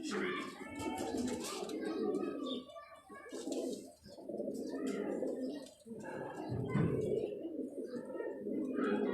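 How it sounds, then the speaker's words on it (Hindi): Pigeons cooing, a low, throaty coo repeated over and over for nine seconds, heard underneath a person speaking nearby. "लेकिन कबूतर घबरा गया है"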